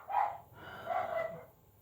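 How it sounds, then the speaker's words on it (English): A couple of dogs barking outdoors at some distance, two bursts of barks with a short gap between them, fairly clear with no talking over them. "Who are they barking at now?"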